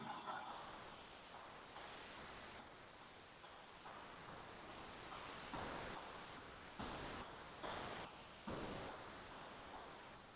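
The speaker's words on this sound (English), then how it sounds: "That is the sound of chicken being fried." Chicken frying in hot oil gives a steady, dense sizzling hiss with pulsing crackle surges, heard close and alone with no talking.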